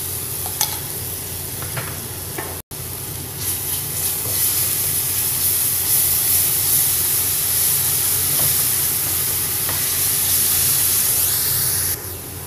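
Garlic paste sizzles in hot oil in a pan for urad dal, a loud steady frying hiss with occasional stirring scrapes and a brief dropout near the start.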